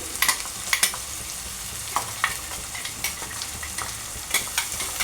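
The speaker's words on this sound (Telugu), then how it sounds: "ఇదంతా వేసేసి మంచిగా ఫ్రై అవ్వనివ్వాలి." Green chilli and garlic paste frying in oil in a pan, a steady bright sizzle with occasional sharp clinks and scrapes of a spoon stirring, close and alone with no talk.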